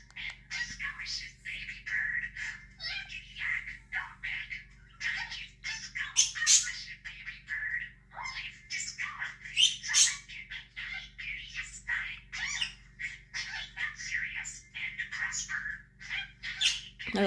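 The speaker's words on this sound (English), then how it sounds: "he's fascinated with Disco, the parakeet on TV" A budgie parakeet on a TV chirps and warbles in busy, continuous bursts of high twittering, heard faintly through a speaker over a low steady hum.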